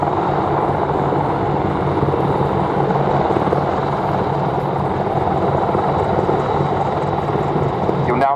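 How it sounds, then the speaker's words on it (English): A Westland Wildcat helicopter repositions at the Duxford airshow, its loud, continuous rotor and turbine roar steady and close throughout. "Now see the Wildcat reposition in front of you. It is a small, agile helicopter"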